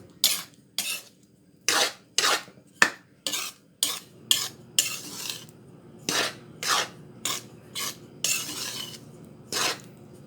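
A utensil stirs food in a cooking pot at home, making about twenty sharp scraping strokes in an uneven rhythm, close and fairly loud, with quiet gaps between them and no talking.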